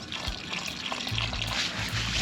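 Water pours from a water bladder into flour for campfire survival damper dough, giving a close, continuous splashing trickle with small gurgles.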